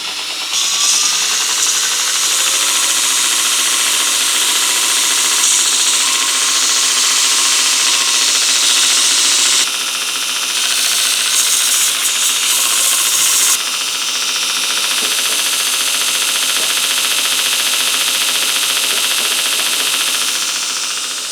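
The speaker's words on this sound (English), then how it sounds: "back over at the Ameribraid grinder" A bench grinder grinds steadily on a metal planer crank handle, a loud continuous abrasive whine that runs for about twenty seconds with brief shifts in pitch and intensity as the workpiece is pressed and repositioned; no talking.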